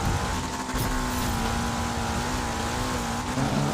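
Ferrari engine in the Forza Horizon racing game, a steady loud sustained drone with a constant pitch running under a faint tire hiss, alone without talk.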